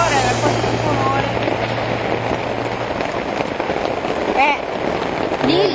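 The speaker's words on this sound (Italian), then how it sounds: "Come piove." Steady rain falls at a campsite near Jesolo, a dense, even hiss of drops filling the whole stretch while people talk faintly underneath.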